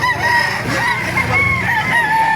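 Chickens cluck and crow steadily at close range at a chicken market in Baliuag, Bulacan, a busy fowl chorus with overlapping calls and no talking.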